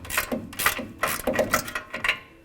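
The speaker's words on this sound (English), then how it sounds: "we're going to remove the nut here at the bottom with a deep well 18mm socket" A ratchet fitted with a deep-well 18mm socket removes the bottom nut of a Fox 2.0 coilover during a leveling kit install on a 2021-2023 Ford F-150. It makes a close, steady run of sharp mechanical clicks.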